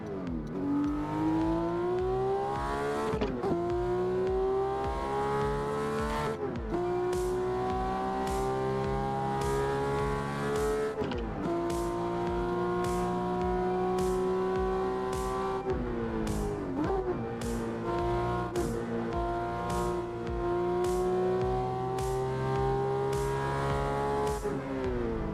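Engine audio from the PC racing game Assetto Corsa, a steady loud car engine revving with rising pitch sweeps broken by sharp shift drops every few seconds, continuous with no talk.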